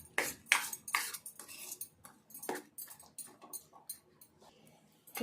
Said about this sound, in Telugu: ఇట్లా మంచిగా నురుగు వచ్చేదాకా కలపాలి